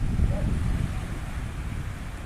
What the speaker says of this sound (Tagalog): Yan, ang dagat oh.